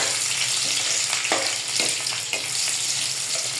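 Garlic sautéing in a pan for ginisang ampalaya, a bitter melon stir-fry: a steady close sizzle with occasional soft scrapes and clicks of stirring, no talking.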